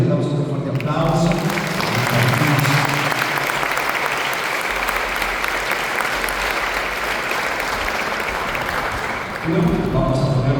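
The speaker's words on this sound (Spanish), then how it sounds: "Agradecemos al psicólogo José David, le damos un fuerte aplauso." An audience at a faith academy gathering breaks into loud, sustained applause lasting most of the clip, starting after a voice speaks and ending as talking resumes.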